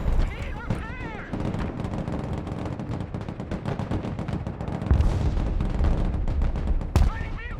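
Sustained gunfire and heavy artillery blasts from a modern military battle in the video game Broken Arrow, dense and continuous with louder booms, while voices shout over the combat.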